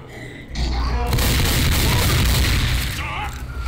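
A Boomer zombie bursts in Left 4 Dead 2 as a heavy, sustained explosive roar that swells quickly and holds for about two seconds before easing, with a voice briefly audible near the end.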